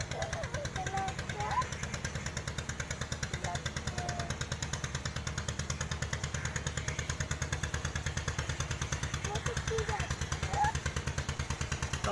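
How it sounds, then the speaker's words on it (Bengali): A trawler boat's engine chugs steadily on a river, a loud, rapid thumping pulse that runs the whole time, with children's voices and chatter over it. "ট্রলার যাচ্ছে, কত বড় ট্রলার যাবে"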